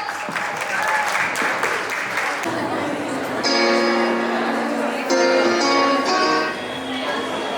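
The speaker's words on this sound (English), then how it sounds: "Please cheer him by a big round of applause." An audience at a school award ceremony claps for a dance performance: dense, steady applause from a crowd, continuing as tonal music starts up partway through and plays alongside the clapping.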